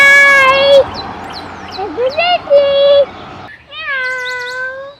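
A cat meows repeatedly and loudly up close, several drawn-out, wavering cries with short gaps, the last one rising after a brief pause, with voices also present.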